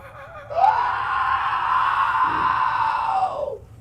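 A game master voices a zombie's shriek during a tabletop role-playing session: a single loud, sustained, wavering scream that rises abruptly, holds for about three seconds and trails off, performed by a human voice imitating the creature.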